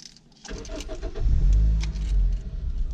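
Supercar with carburetor exhaust starting up: a brief click and starter crank, then the engine catches into a deep, loud, rumbling idle that swells and holds, heard close with no talk.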